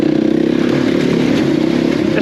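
A 125cc enduro motorcycle runs on a practice track, its engine droning steadily with a buzzy, rattling tone and slight revving throughout, close and loud.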